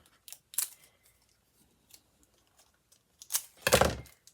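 Scissors snipping the twisted ends of a candy wrapper made from craft noodles: a few quick, crisp cuts separated by quiet pauses, close by, with a louder crinkly handling sound near the end.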